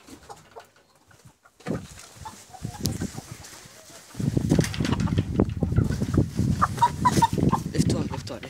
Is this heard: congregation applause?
no